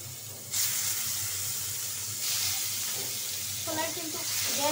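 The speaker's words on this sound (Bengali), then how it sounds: "চুলায় কিন্তু গ্যাস কম গ্যাসে মাছ ভাজতেছি" Katla fish frying on a low gas flame, a steady hiss and sizzle that swells louder after a moment, with faint kitchen clinks near the end.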